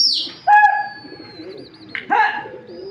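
Pigeons kept for sale coo close by, with two distinct calls separated by a pause over a faint background.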